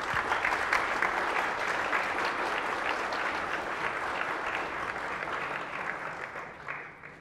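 An audience at a conference session on military geography applauds the speakers, a sustained, even wash of many hands clapping that slowly fades toward the end.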